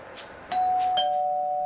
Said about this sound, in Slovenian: Nešče zvoni.